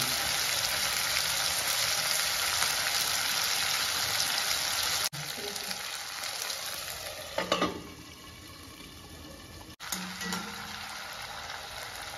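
Red chili frying in oil for a local chicken curry, a steady close sizzle throughout with brief stirring clatters and short pauses, no voices.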